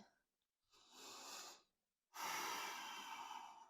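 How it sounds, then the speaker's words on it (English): Slow yoga breathing through the nose during a vinyasa flow: one long inhale, a short pause, then a louder, fuller exhale, close and clear with no talk. "Still breathing in and out through your nose."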